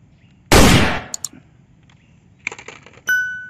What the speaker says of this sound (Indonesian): airsoft gun extreme shoot